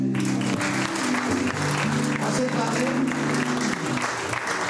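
Congregation in a church applauding, a thick continuous clatter of clapping under sustained organ or keyboard chords, with a voice briefly speaking over it.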